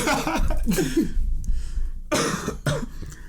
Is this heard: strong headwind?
no